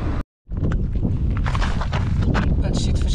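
Wind gusts steadily through the Botswana bush as a loud, continuous rumbling rush across the microphone, broken only by a brief silent dropout near the start.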